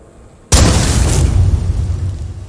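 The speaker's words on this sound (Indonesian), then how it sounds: "peluru yang diambilnya adalah peluru yang sudah dimodif sebelumnya oleh Bob Lee agar meledak di tempat" A sudden loud blast as a modified rifle bullet explodes after quiet, a heavy booming explosion with a rumbling, crackling tail that slowly fades.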